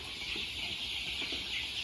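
Chickens in a poultry house bedded with rice husk litter cluck softly and intermittently over a steady high-pitched background hum.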